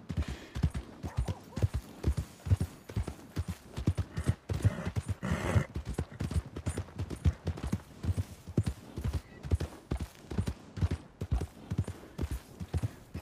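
Horse hooves clip-clopping steadily in Red Dead Redemption II, a continuous rhythmic trot of sharp, close thuds running throughout, with a brief snort or whinny-like burst midway and no talk.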